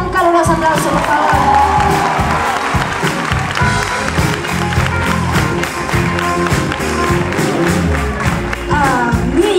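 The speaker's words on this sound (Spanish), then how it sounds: "Un caluroso aplauso, por favor." Audience applause and cheers for a flamenco-style guitarist introduced on stage at a live music show, dense steady clapping mixed with crowd shouts and rhythmic percussion, loud throughout.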